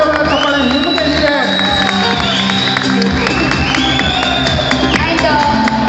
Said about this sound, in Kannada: ಒಮ್ಮೆ ಜೋರ ಚಪ್ಪಾಳೆ ನಿಮಗೆ ಇದೆ.